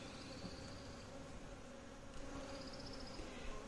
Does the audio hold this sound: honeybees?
yes